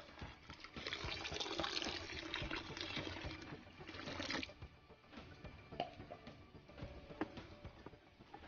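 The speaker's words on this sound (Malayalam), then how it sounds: "ഒരു 1/2 ലിറ്റർ വെള്ളം കൂടി ആഡ് ചെയ്യുന്നുണ്ട്" Half a litre of water pours into homemade dishwashing liquid, a soft continuous splashing stream for about four seconds that gives way to scattered drips and small knocks, quiet and close.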